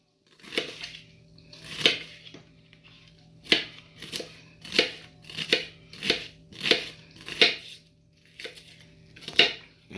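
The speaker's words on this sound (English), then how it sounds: "Slice the onion." A knife slices through a halved onion for grilled hamburger steak, giving a series of crisp, evenly spaced cuts, about ten firm strokes up close with short pauses between them and no voices.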